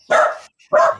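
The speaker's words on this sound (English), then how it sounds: "A dog barking." A dog named Peanut barks twice, close and loud, with a short pause between two sharp bursts.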